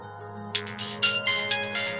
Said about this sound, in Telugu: చూడు, మళ్ళీ వాడే ఫోన్ చేస్తున్నాడు.